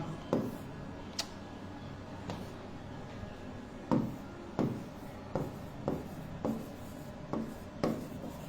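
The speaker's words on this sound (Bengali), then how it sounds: "আমার জন্য একটু অস্বস্তি হচ্ছে লিখতে গেলে, কারণ এই বোর্ডে আমার লিখে অভ্যস্ততা নাই" Marker or chalk strokes on a classroom board during an English lesson, a series of short scratchy taps and rubs at an uneven pace, fairly close, with no talking.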